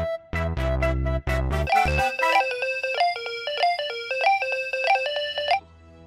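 An outgoing mobile phone call rings out over a handset, a steady repeating ringback melody of electronic tones, fairly close and clear with no talking.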